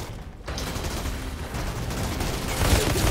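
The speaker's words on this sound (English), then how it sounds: "Honestly, the shooting in this is so satisfying." Sustained gunfire in the shooter Outriders, a loud rattle of rapid shots over a dense noisy combat background, building slightly toward the end.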